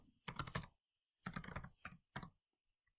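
Quick bursts of keystrokes clatter on a computer keyboard, three short clusters of close, crisp taps separated by silent pauses.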